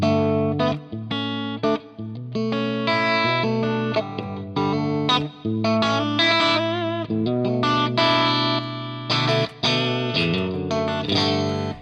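An electric guitar played through a Fractal unit's FET preamp drive effect rings out in a run of sustained, lightly overdriven chords and notes, loud and continuous with short gaps between phrases.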